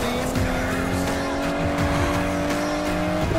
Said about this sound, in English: It's not every day I get to take Weir's DB11 for a spin